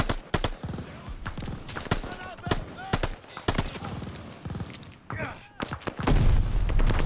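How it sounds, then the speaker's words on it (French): Gunfire from the Call of Duty Vanguard campaign, with dense rapid bursts and single sharp shots cracking in irregular clusters, heavy rumbling impacts near the end, and shouted voices mixed under the shooting. "Faut s'occuper de cette mitrailleuse!"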